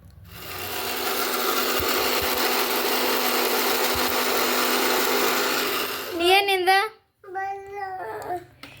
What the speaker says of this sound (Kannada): ಗ್ರೈಂಡ್ ಮಾಡಿಬಿಡ್ತೀನಿ ಇದನ್ನ